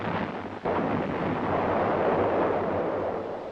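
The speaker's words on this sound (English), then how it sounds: "The towed 105mm howitzer" A towed 105mm howitzer fires with a single heavy blast that rolls into a long, loud, sustained roar.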